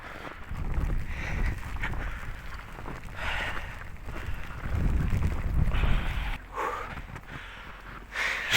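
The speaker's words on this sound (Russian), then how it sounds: "Не то чтобы холодно, но очень сильный ветер." Strong blizzard wind gusting during a snowstorm in Moscow, heard as loud, continuous rumbling buffeting against the microphone with surging gusts throughout.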